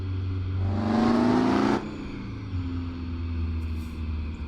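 A heavy truck engine in American Truck Simulator revs hard and loud, straining for nearly two seconds before the pitch drops off into a steadier, lower drone that carries on to the end.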